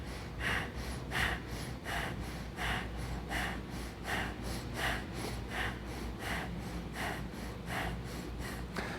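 Rhythmic breathing paced to a beginner poi and yoga flow, steady repeated breaths with soft airy bursts about every 0.7 seconds, close and moderately loud over a low hum, with no talking.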